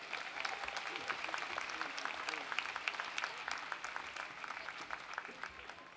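At a December university commencement ceremony, a large crowd claps steadily from a moderate distance, a sustained even patter of many hands.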